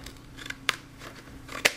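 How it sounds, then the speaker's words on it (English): Scissors snip to trim off a small flap of paper cardstock on a petal cone treat holder craft, two short crisp cuts about a second apart over quiet room tone. "Then I'm going to take my scissors and just trim off"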